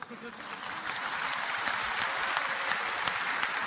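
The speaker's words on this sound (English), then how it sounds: "you're clapping" An audience at a religious lecture breaks into steady, dense applause that holds at an even level, with a few voices audible within the clapping.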